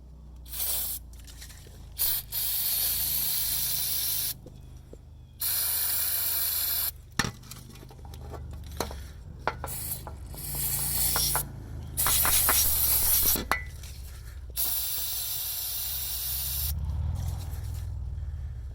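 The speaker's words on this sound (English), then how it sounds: "a little bit of spraying will get it fixed." Several short bursts of hissing spray from a cleaner spray can onto the throttle linkage of a wood splitter engine, some several seconds long, broken by pauses and handling clatter, close up.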